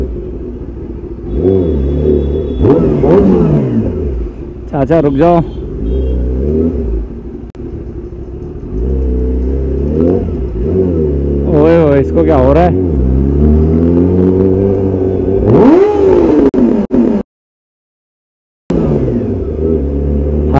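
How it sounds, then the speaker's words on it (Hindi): A Kawasaki ZX10R motorcycle revs in several loud, close bursts with sharp pops, under a lot of excited talk among a group of college friends. The engine rumbles steadily between the revs, and it drops out briefly near the end. "भाई क्या बैक फायर दे रहा अपनी गाड़ी"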